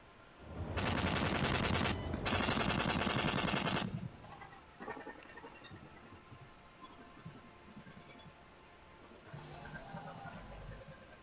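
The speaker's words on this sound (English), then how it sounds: "Sounds like you're shooting." Two long, loud sustained bursts of weapon fire in the Star Citizen space game, separated by a short gap, followed by a quieter stretch of low game ambience.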